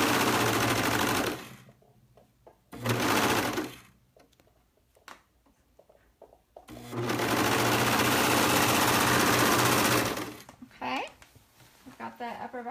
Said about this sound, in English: Your sewing machine or your serger. And I'm just going to go ahead and serge that together.